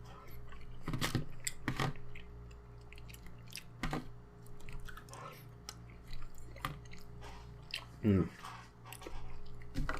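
Someone eats Korean curry close to the mic, with soft wet chewing and occasional crunchy bites in scattered bursts over a quiet room hum.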